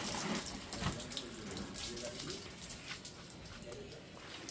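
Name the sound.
non-stop rain falling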